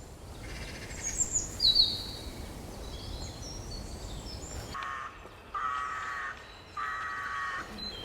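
A magpie calls close by in a dawn chorus, giving a few harsh chattering bursts in a loose, repeated rhythm, with fainter birds singing in the background.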